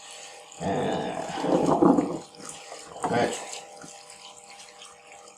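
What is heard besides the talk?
cold water rinsing an Atari 2600 motherboard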